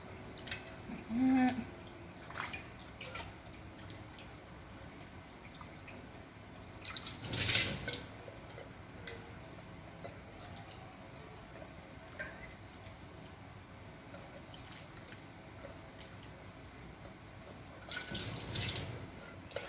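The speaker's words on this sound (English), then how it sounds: "just use cold water to run over the butter" Cold tap water runs over freshly made homemade butter in a kitchen sink. The water comes in a few brief, faint splashing bursts separated by long quiet stretches, with no talking.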